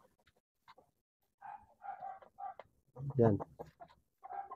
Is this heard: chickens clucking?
yes